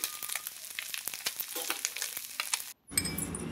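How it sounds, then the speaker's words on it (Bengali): Fish fries in hot oil in a pan at home, a steady close crackling sizzle with scattered sharp pops, briefly cut off before a fuller, louder sizzle resumes. "এর মধ্যে আমি বাড়িতে এসে যে মাছ ভাজতে শুরু করে দিয়েছি।"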